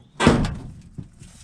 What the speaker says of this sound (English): little dent in the door, that's why it creaks like that opening